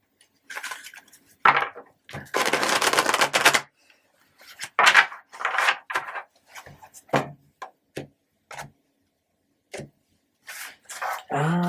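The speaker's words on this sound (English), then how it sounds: "I'll do one more shuffle for you" Tarot cards riffle and slap together in short bursts, one long sustained shuffle among several quick flicks and taps, close and fairly crisp.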